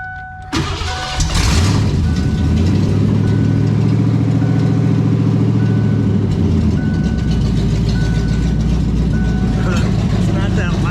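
A car engine running without any exhaust fitted catches and then revs under a little throttle, settling into a loud, steady, rumbling drone up close. A voice briefly speaks over the running engine.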